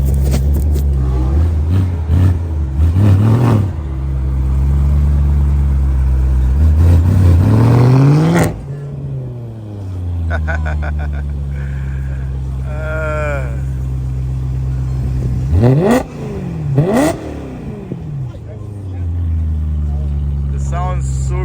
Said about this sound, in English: The E92 M3.